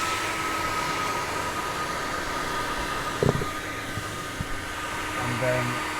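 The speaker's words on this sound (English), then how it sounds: "torch the bitumen" Roofing gas torch heating bitumen on a warm deck extension roof, a steady close roaring hiss throughout with a few brief clicks and knocks.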